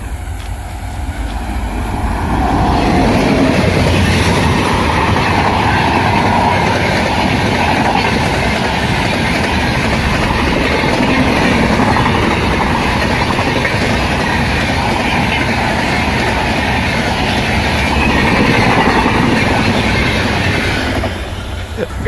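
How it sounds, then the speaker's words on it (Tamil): A train rolls past near a railway track, a loud continuous roar of wheels and cars that swells in, holds steady for about twenty seconds and tails off at the end. "கைஸ் ட்ரெயின் வருது"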